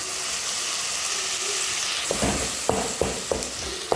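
Tomatoes sautéing with salt in a pan, a loud steady hiss of frying with several spaced scrapes of a spoon stirring in the second half.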